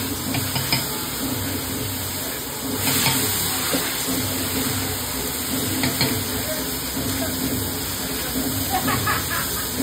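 Spices frying in a pan while stirred, with a soft continuous sizzle and occasional scrapes, as a voice talks nearby over the cooking.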